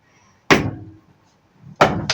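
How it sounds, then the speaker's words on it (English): Knock on a door as a sound effect in a children's story of the three little pigs, two sharp, close thumps separated by about a second, with no voice over them. "when he heard a knock on his"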